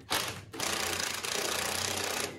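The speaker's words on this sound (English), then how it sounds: "use these self-drilling screws to secure it in place" Self-drilling screws are power-driven into metal window blanks on a converted school bus, a dense buzzing whir in two bursts, the second sustained, loud and close with no talk.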